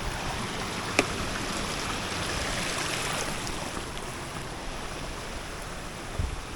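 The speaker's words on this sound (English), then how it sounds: "Small stream crossing here." A small creek flows at a stream crossing on the left fork below the Subway in Utah's backcountry, a steady broadband rush of water that stays fairly quiet and even, with a couple of faint knocks and no talking.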